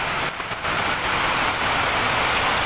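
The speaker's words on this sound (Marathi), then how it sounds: "कसला पाऊस पडतो." Heavy rain pours down steadily, a dense continuous hiss of drops on surfaces close by, with no voices over it.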